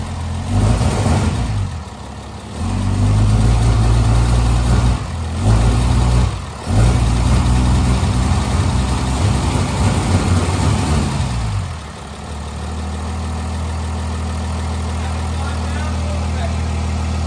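Diesel idle from a 6.7 Cummins engine swapped into a 1978 Chevy Squarebody truck, a steady low rumble with a few brief revs early on before settling into an even idle.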